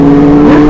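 A very loud, close Kawasaki Ninja H2 motorcycle engine drones at a steady high pitch, with a slight rise toward the end.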